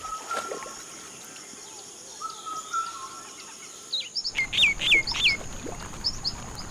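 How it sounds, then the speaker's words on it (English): Myna birds calling near wallowing rhinos, a run of sharp, rising chirps and whistles that grows busier toward the end, heard over faint outdoor background. "Myna birds also help with any parasite problems."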